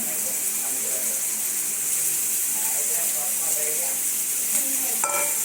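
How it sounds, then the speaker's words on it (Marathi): Finely chopped fenugreek leaves fry in oil with a constant soft sizzle while being stirred, giving faint scraping and clinks throughout, with a sharper knock near the end. "आता ही मेथी याच्यामध्ये सोडायची"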